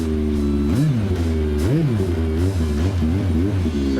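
A Yamaha Apex snowmobile engine revs repeatedly, its loud, close idle rising in several sharp throttle blips of varying length before settling back each time.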